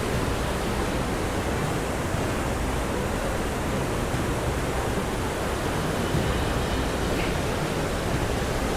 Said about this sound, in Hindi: देख सकते हैं कितना तीव्र गति से जल बह रहा है।